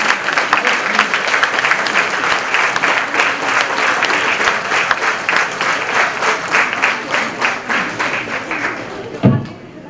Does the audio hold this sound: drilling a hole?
no